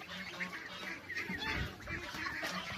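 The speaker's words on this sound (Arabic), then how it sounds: "أهو شايفين ده الوز" A flock of farm-raised geese feeding on clover and bran honk and cackle in overlapping, irregular calls at moderate distance, soft overall with no talk over them.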